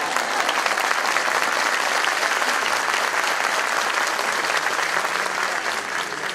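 A congregation at a church mass for the feast of the Virgen del Carmen in Pelarco claps steadily, a dense, loud, sustained wave of applause from a large crowd with no talk over it.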